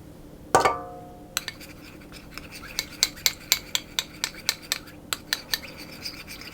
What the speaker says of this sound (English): I'm simply going to stir that around till the corn flour